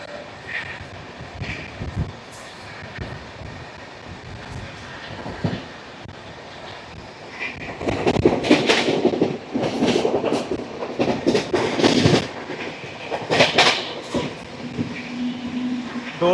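A train runs through a railway station without stopping, with a steady rumble at first, then louder clattering wheel beats and bursts of rattling as it passes the platform.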